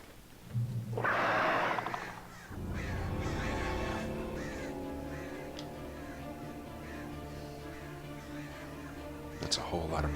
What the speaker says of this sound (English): That's a whole lot of birds.